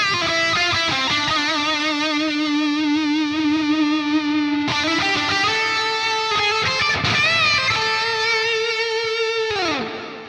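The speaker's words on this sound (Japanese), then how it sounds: "ディレイでリバーブも入れてみましょう。" Electric guitar played through the Neural DSP Fortin Nameless Suite X amp plugin with delay and reverb, sustained chords and ringing notes with long echoing tails, loud and continuous for about ten seconds, with no talking.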